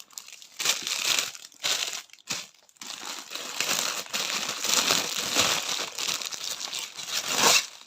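Crinkly plastic and paper packaging rustles and crumples continuously as a summer unboxing parcel is opened, in loud close bursts with brief pauses and tearing-like flurries, no voices.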